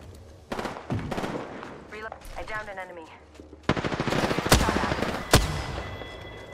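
Rapid automatic gunfire from the Apex Legends video game comes in loud bursts with a few sharp single shots, close and punchy, while a player talks in between.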